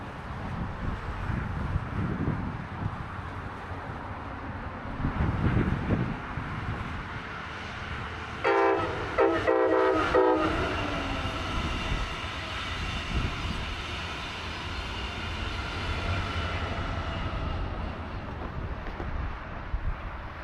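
A Brightline passenger train in Princess Cruise Lines wrap passes northbound toward Orlando in Brevard County: a steady rumble and wind, with a brief loud horn blast near the middle.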